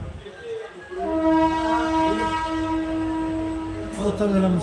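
A train pulls into Beed railway station in rain, with a long, loud horn blast sounding over rumbling wheels and rail noise, close by.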